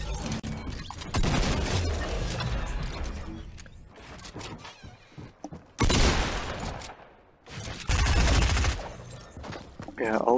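Rapid SMG bursts in Fortnite Team Rumble, loud, repeated volleys of automatic fire in several clusters across the clip, mixed with game effects.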